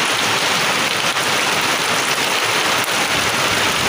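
Heavy monsoon rain pours steadily in a village, a dense, loud, unbroken hiss of drops on surfaces with no pauses and no voices.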